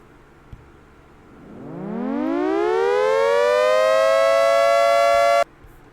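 A synthetic siren winds up from a low growl to a steady high wail, holds for a few seconds, then cuts off abruptly.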